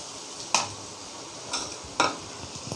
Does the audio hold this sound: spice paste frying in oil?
yes